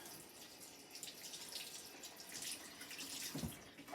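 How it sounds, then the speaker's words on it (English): A tap runs while fingers are rinsed under it, giving a faint, steady hiss of flowing water with slight splashing and a soft thump near the end. "Let me go and rinse my fingers off really quick."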